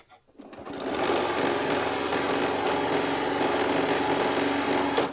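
A sewing machine runs steadily, stitching fabric strips through to the end of the seam, with a brief start and then a continuous close, loud hum for about four seconds.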